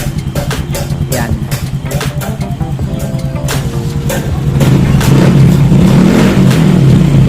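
A Yamaha Mio i 125 motorcycle, restarted after losing compression, runs close and loud with an uneven ticking idle that swells into a steadier, stronger drone.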